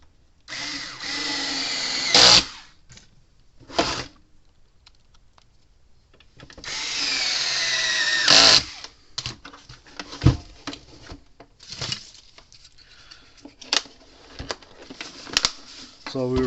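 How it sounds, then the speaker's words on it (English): A power screwdriver drives screws back into a Gallagher M600 electric fence energiser, two longer whirring runs and several short bursts up close, with handling clatter between them. "Put the screws back in it."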